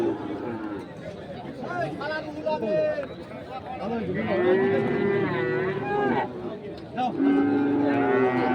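Cattle lowing at a Qurbani bull market, with long drawn-out moos from nearby animals under steady crowd chatter and voices.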